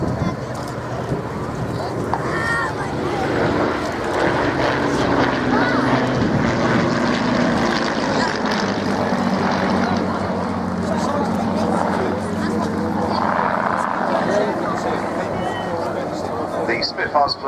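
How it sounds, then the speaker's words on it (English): A Hawker Hurricane 2C and a Mark 16 Spitfire fly past at the RAF Cosford air show, a sustained propeller-engine drone building and fading from left to right beneath steady announcer commentary. "Coming in, left to right, Hurricane 2C, we call it PZ, and a Mark 16 Spitfire TE."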